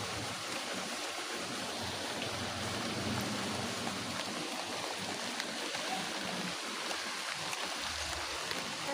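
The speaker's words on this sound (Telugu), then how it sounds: "వాన పడుతుంది" Rain falls in an even, continuous hiss that stays at one soft level throughout.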